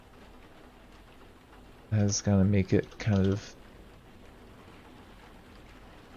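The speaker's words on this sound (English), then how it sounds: "It is raining right now" Steady rain in the video game Cataclysm: Dark Days Ahead, a continuous soft hiss running through the whole stretch, with someone speaking briefly over it in the middle.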